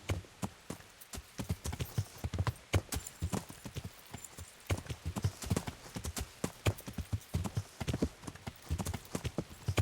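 In Kingdom Come: Deliverance, a horse's hooves clip-clop in an uneven, busy rhythm, close and crisp, with scattered bursts of several steps across about ten seconds.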